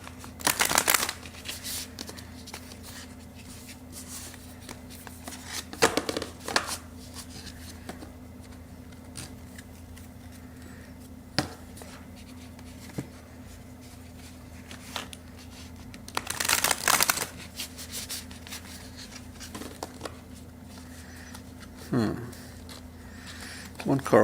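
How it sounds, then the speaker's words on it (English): Tarot cards are shuffled in several brisk bursts, separated by quieter stretches with faint handling sounds and occasional low talk. "I'll shuffle a couple more times."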